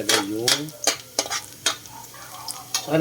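Garlic fries in a pan until golden brown while a utensil stirs it. A light sizzle runs underneath, and several sharp scraping strokes of the stirring utensil stand out against it.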